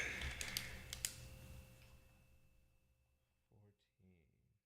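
Computer keyboard typing during a software devlog session: a quick burst of clicky keystrokes at the start, fading into quieter taps under a steady electronic hum, followed by brief talking near the end.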